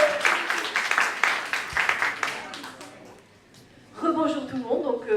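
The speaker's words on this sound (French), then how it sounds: "Je vous demande donc un tonnerre d'applaudissements pour Deyla" An audience at a French talk on starting a network-marketing business applauds a guest named Deyla, a steady wash of clapping for about three seconds that fades before a voice begins speaking.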